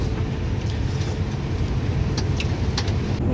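A grain truck pulls up to a combine harvester during a sunflower harvest, heard as a loud, steady engine rumble with faint higher clatter and no talking.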